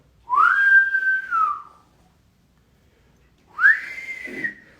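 Two clear whistles from a person, each a sweeping tone that rises then holds and glides down, separated by about two seconds of silence.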